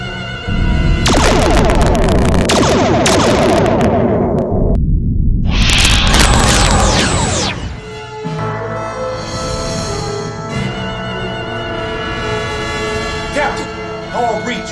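Star Trek starship torpedoes firing, a run of loud, sharp electronic bursts and whooshing blasts up front that gives way to quieter, sustained humming tones.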